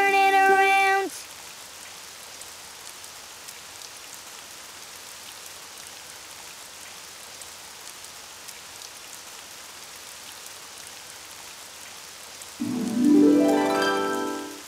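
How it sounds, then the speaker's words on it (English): Steady, soft hiss of rain falling continuously in the cartoon Daniel Tiger, with brief bursts of musical tones at the start and end. "Oh, it's raining outside."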